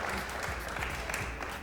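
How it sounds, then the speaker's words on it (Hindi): A studio audience on a television show applauds steadily, with continuous dense clapping filling the room and no clear speech over it. "बहुत सारी तालियां जी"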